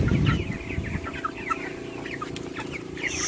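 Backyard broiler chickens clucking in a coop, with many overlapping short chirps and clucks from a small flock, fairly close and continuous against steady wind noise.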